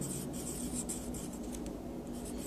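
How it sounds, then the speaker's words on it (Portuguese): Marker or chalk writing on a board during a math lesson on the reduced equation of a circle: a steady, close scratching and rubbing that runs continuously with no talking. "Então eu vou escrever aqui equação"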